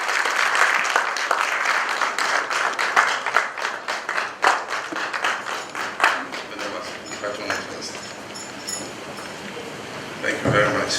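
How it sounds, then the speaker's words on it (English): Audience applause for Ghana's President at a formal gathering, sustained clapping with some crisp individual claps and background voices, tapering and growing sparser near the end. "A round of applause, please."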